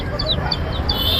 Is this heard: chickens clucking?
yes